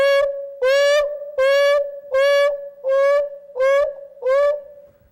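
An African painted dog gives its hoo call, a series of seven loud, clear hooting notes at a steady rhythm with short pauses between them, heard up close and alone.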